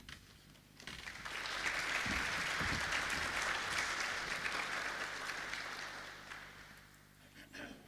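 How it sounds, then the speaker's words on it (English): Sustained applause from a conference audience follows a talk, rising quickly to a steady wash of clapping that holds for several seconds before tapering off. "Let's give him a round of applause again."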